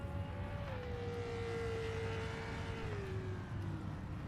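Racing car engine in Project Motor Racing holding a steady droning tone, then its pitch steps down twice as the throttle eases, continuous and fairly loud over a broad rumbling noise bed.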